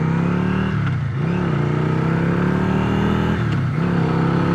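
A Yamaha Virago motorcycle engine revs loudly and steadily close by, with two brief dips in pitch where the throttle eases before it climbs again, and no talking.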